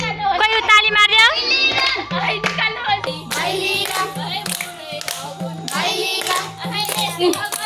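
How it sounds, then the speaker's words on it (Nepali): Hands clapping in a rhythmic beat during Tihar festival Deusi play with a guitar, the claps coming in regular bursts alongside singing voices and children, close and lively. "कोही ताली मार्यो"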